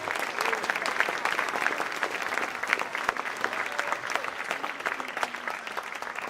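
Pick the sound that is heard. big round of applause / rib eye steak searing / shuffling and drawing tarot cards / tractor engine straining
big round of applause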